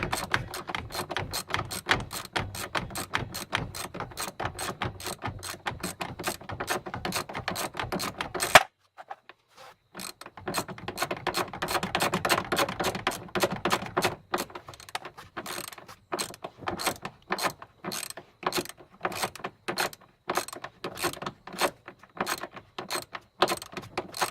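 A wrench fitted with a T50 bit tightens a racing seat bolt during a seat, roll cage and harness install, giving a long run of rapid, close ratcheting clicks with one brief pause midway.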